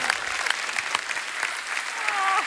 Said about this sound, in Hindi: जोरदार तालियां हो जाए बब्बर फैमिली के लिए।